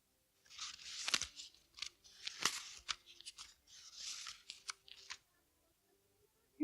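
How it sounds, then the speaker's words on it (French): Paper pages of a book turned one after another, giving several crisp rustling swipes spaced about a second apart, close and fairly quiet, followed by near silence. "Les pages du livre."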